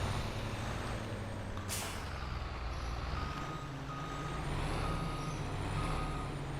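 A truck in Farming Simulator 22 lets out a sharp hiss of air brakes, then a steady run of reversing beeps over a low idling engine rumble, with no speech.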